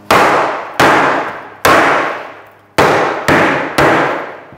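A hammer strikes vinyl plank flooring six times in a hammer test, each blow a sharp, loud clang with a ringing decay, in an uneven rhythm with no talk.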